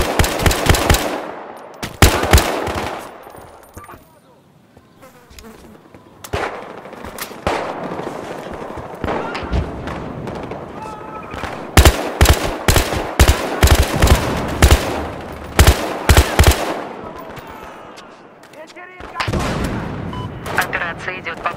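Gunfire in the Battlefield Hardline video game: loud bursts of automatic fire and heavy booming shots come in repeated clusters with brief lulls, and a player's voice is heard between them.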